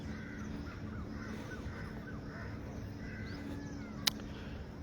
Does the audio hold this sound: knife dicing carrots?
no